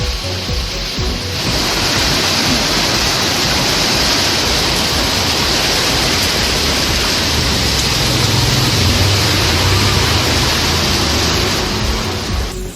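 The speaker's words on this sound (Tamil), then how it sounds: "காற்றுடன் கூடிய கனமழை பெய்தது" Heavy rain driven by wind pours steadily over suburban Chennai, a dense, constant roar of falling water at close range that carries on without a break and with no voices.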